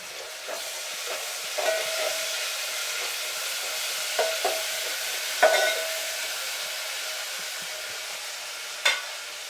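Ginger-garlic paste frying in a pan for home-style veg biryani, a steady sizzle with scattered sharp ticks and pops from stirring, moderately quiet.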